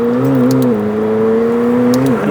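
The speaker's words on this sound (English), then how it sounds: "its gearbox as well, listen to that. The way it rips through the downshifts" Engine tone of a McLaren 750S with a 4-litre twin-turbo V8, stepping down in pitch through quick gearbox downshifts, loud and close, with a steady whir beneath.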